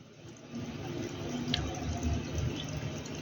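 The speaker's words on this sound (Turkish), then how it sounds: "Şekerli suyunu damlatalım sana." Sugar water dripped from cotton onto a queen ant rescued from a spider web, giving faint wet drips over a steady low background murmur, with one brief brighter tick in the middle.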